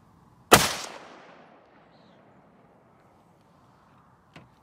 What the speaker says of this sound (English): I'm gonna shoot a second shot and see what we get for consistency on the chronograph